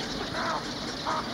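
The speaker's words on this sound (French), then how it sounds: "On entend, si on distingue bien, le cri assez rauque du héron, le croc, un son un peu comme ça." A heron at a wetland in the Brenne region gives two hoarse, rasping croaks about half a second apart, heard from a moderate distance over a steady outdoor background.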